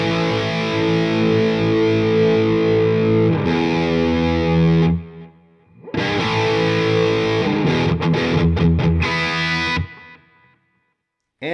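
An electric guitar played through a Line 6 HX Effects unit into a BluGuitar Amp 1 rings out loud and distorted, sustained chords with a short drop mid-way, then a burst of choppy strummed chords before cutting to silence.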